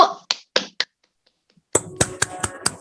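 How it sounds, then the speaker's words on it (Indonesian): A few students clap in a classroom for a group, with sparse, distinct claps, a short pause, then another run of separate claps at an uneven rhythm. "kasih tepuk tangan untuk kelompok 1"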